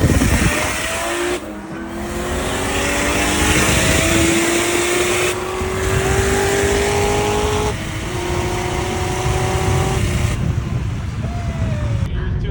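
Lexus IS300 with a 1.5JZ engine launching down a drag strip, its engine roaring close and loud as it climbs through rising revs with several sharp gear-change breaks, pulling hard for the full run.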